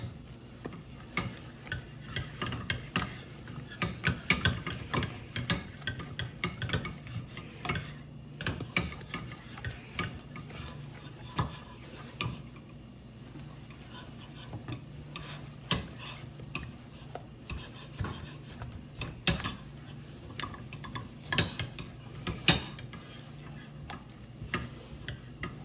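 A spoon stirs choux pastry dough in a pot as it balls up and pulls away from the sides, giving continuous close scraping and ticking strokes at a steady rhythm with no talk.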